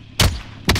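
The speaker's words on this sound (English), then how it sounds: "Somebody shooting." Two loud, sharp gunshots in Call of Duty: Modern Warfare on the Verdansk map, about half a second apart, each with a brief echoing tail, heard close.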